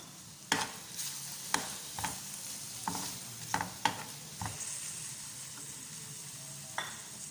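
Lightly fried okra stirred into onion-tomato masala in a pan, giving sharp spatula knocks and scrapes every second or so over a quiet background sizzle, close up with no voices.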